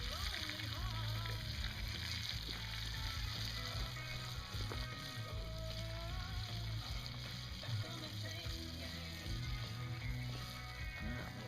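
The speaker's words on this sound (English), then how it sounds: "We're going to let this squirrel cook a little longer before we go putting the ingredients in this time." Squirrel frying in a pan over an outdoor campfire, a steady dense sizzle running throughout at moderate level with faint clatter, no clear talk over it.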